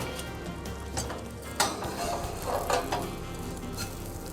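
Panko-crusted walleye fries in butter on a grill, a steady close sizzle with occasional scrapes and clinks of a utensil against the pan, and no voices.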